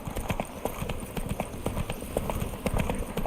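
In The Witcher 3: Wild Hunt on PlayStation 4 Pro, a horse's hooves gallop in a rapid, steady clatter of hoofbeats that runs throughout, with faint background ambience.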